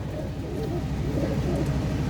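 Pigeons coo in a low, soft, repeating murmur over a steady rumbling background, with no one talking.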